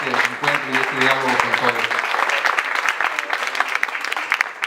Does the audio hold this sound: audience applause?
yes